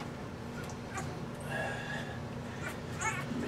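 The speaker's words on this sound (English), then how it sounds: "Hear Ebony barking." Dog barking during a live whelping, with a newborn harlequin puppy nearby; faint, scattered yips and barks in a quiet room with a low hum, heard at a distance.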